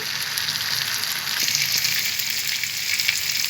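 Chicken kala bhuna with garam masala and fried onions sizzles steadily in a pan, a continuous loud crackling fry with a few soft clicks and no talking.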